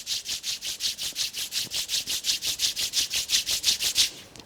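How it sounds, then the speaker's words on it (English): Palms rubbed briskly together, a steady run of about twenty even swishing strokes, close and fairly loud with no other sound. "Rub your both palms."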